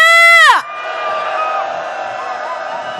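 A crowd at a protest march shouts and cheers; a loud sustained chanted cry ends abruptly, then a softer ongoing roar of voices with scattered whoops trails on.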